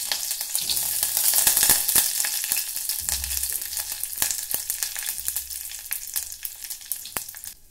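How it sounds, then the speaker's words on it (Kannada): Green chili and curry leaves sizzle in a spoonful of hot oil for rasam tempering, a loud, close, steady crackling fry with occasional stirring knocks and no talking. "ಇದು ಸ್ವಲ್ಪ ಫ್ರೈ ಆಗಲಿ."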